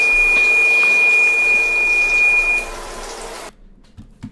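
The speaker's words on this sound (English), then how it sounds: "Turn that timer off." A kitchen timer beeps steadily while burgers cook, a single sustained electronic tone sounding loud and close over a broad background hiss, then cutting out abruptly.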